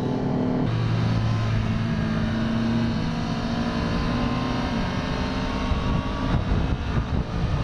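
The loud exhaust of a C650 motor scooter, rumbling and droning close by with steady engine tones that shift in pitch as it revs during a ride.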